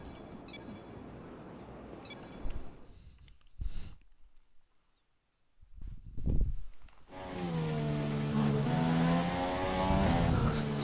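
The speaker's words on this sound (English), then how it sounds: "So we still have a Renault engine in the back of our car" A Renault-powered Formula 1 car in F1 2017 revs, with short engine bursts and a near-silent gap, then a sustained high-pitched engine whine rising and falling through the gears, loud and close.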